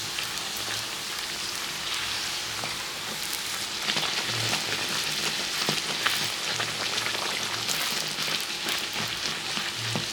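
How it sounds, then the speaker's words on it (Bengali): Small bhatura bread frying in oil in a small kadai, a steady dense sizzle and crackle that runs unbroken, close and moderately loud. "এই দেখুন লাল লাল করে পুরোটা ভেজে নিচ্ছি"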